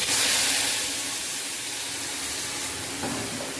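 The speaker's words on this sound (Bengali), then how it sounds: "মিক্সিতে কাজু কিশমিশ আদা আর টমেটো ভালো করে পেস্ট করে নিয়েছি দিয়ে এটা তেলের ওপর দিয়ে দিচ্ছি" Paste of cashews, raisins, ginger and tomato hitting hot oil, giving a loud, steady hissing sizzle that stays constant throughout without any voices.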